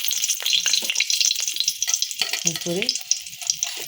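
Whole spices sizzle in hot oil in a kadai while cooking vegetable biryani: a continuous bright crackle with small pops and stirring scrapes, close by, with a brief spoken word near the end.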